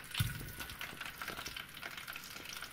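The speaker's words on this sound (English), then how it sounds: "Ooh, listen to that sizzle." Faint, continuous sizzling and crackling of sliced Spam frying in a hot pan, with a soft clink near the start.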